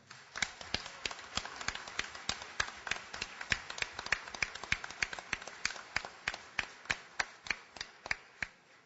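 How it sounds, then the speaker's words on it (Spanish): Applause from the audience at a national business leaders' meeting, heard as sparse, fairly steady hand claps at a moderate distance rather than a dense ovation, with no voices. "Un aplauso, por favor."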